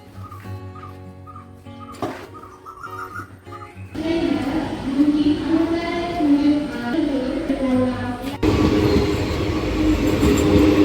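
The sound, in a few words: train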